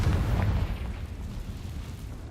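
Confringo fire spell exploding in the video game Hogwarts Legacy: a heavy, rumbling low-end blast that rolls on and slowly thins out across two seconds.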